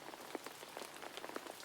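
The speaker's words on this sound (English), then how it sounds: "He could hear the rain falling outside. Pitter-patter." Rain falls outside, a soft, faint patter of scattered drops tapping irregularly on a surface with no voices.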